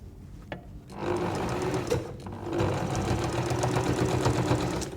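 A domestic sewing machine stitches fabric binding onto a quilt, a close rapid mechanical whirr that starts after a short pause and runs steadily, briefly easing off once midway.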